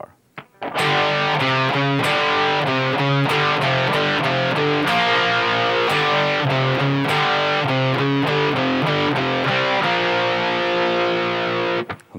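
An electric guitar with distortion plays a riff, loud and steady with rhythmic double stops and quick picked runs, alone for about eleven seconds before stopping.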